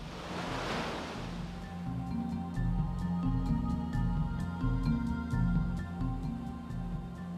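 Wild whitewater of the Colorado River rushing through Cataract Canyon, a steady loud broadband roar of churning rapids with a low rumble underneath, continuous and close throughout.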